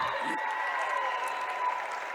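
A basketball crowd at a Westlake vs Fremont game applauds steadily as a substituted player leaves the floor, a broad, continuous clapping wash heard fairly close, with no talk over it.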